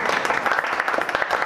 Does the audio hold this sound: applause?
yes